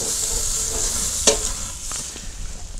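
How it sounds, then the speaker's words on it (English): A Wagyu tomahawk steak sears in a hot pan with a loud, steady sizzle, and one sharp spatter or pop partway through; no voices. "Get a good sear on all sides."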